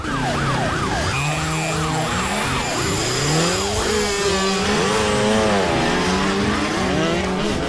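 Wailing emergency siren from a police car in a dubbed South Indian action movie, loud and continuous with rising and falling sweeps over street traffic noise, with no talking.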